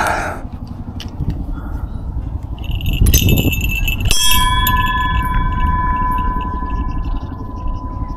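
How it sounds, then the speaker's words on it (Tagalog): One clear metallic strike of a bell in a flower garden in Taiwan, followed by a long, bright ringing decay that hangs over faint background murmur and whispery voices. "Let's sound the bell."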